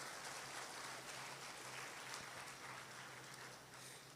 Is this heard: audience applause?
yes